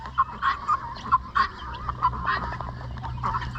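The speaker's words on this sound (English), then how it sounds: "A couple of Indian water ducks." Farm fowl calling near Indian water ducks kept for eggs: a steady stream of nasal honks and quacks, several birds overlapping close by, loud and uninterrupted by talk.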